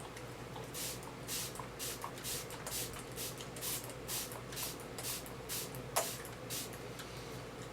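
Repeated short hissing bursts of MAC Fix Plus setting spray misted onto skin, close and fairly quiet, in a quick uneven rhythm over a low background hum.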